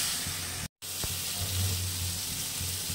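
Chilli powder and spices sautéing in hot oil for an egg curry with potato and cauliflower, giving a steady close sizzle and hiss throughout, broken by one brief silent gap.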